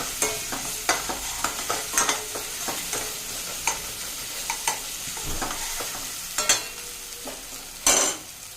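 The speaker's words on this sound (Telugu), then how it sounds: "ఇక్కడ అలాగే అల్లం వెల్లుల్లి పేస్ట్ కూడా వేసేస్తున్నాను ఇప్పుడు మిక్స్ చేద్దాం" Ginger garlic paste fries in a pan with cinnamon, cardamom and cloves while a spoon stirs it, giving a soft sizzle under repeated sharp scraping taps at an irregular rhythm, close to the microphone.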